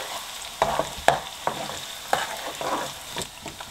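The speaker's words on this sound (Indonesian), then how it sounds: "Kita masukkan bawang putih cincangnya ya. Kita masak sampai berwarna coklat." Minced garlic fries in oil over low heat, browning, with a soft continuous sizzle broken by repeated spatula scrapes and taps at an irregular pace, close by.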